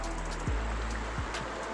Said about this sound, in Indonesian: Aku tunjuk korang video sungai dia.